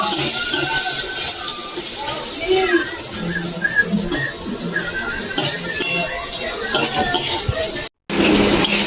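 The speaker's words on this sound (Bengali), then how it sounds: "নেড়ে চেড়ে ভালো করে ভেজে নেব।" Crab pieces frying in a hot wok with salt and turmeric, stirred so the utensil scrapes and clinks against the pan over a steady sizzle, with a brief dropout near the end.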